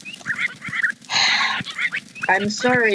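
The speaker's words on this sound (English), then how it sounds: "I don't want to hear so many parrots around me." Minecraft parrots: shrill squawks and raspy bird calls burst out in a cluttered run, one long harsh screech in the middle, with a voice talking underneath.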